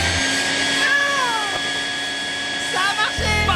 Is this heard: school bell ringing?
no